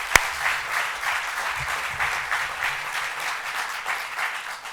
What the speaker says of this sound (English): another round of applause for all of our honorees and awardees this evening